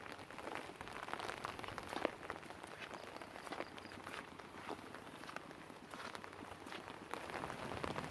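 Heavy rain falls steadily and close by, a dense continuous patter on surfaces with no letup for the whole stretch and no voices.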